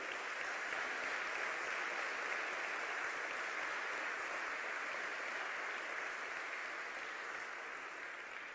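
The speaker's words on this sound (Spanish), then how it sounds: "dale un aplauso" A church congregation gives a steady, even wash of applause during a sermon, sustained and fairly distant, with no break over the whole stretch.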